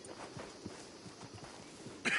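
Horse hooves in Red Dead Redemption 2 clip-clopping in a steady walking rhythm, fairly faint and close, ending in a brief louder burst.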